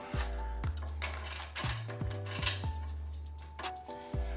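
A screw is backed out by hand on a shop-built folding outfeed table for a table saw, producing a series of light clicking, ratcheting ticks with occasional metallic clinks, close and moderately quiet over a background hum.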